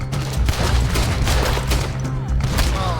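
Rapid gunfire from a modded Red Dead Redemption 2 ambush, dense overlapping shots and booms in a continuous fusillade, loud and close throughout.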